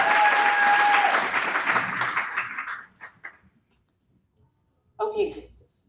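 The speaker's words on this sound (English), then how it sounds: "Y'all clap your hands for him." Audience applause at a Toastmasters club meeting, a dense wash of clapping lasting nearly three seconds before trailing off into scattered claps and quiet, then a short burst of voice.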